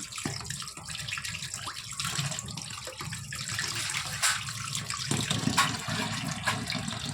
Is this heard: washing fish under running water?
yes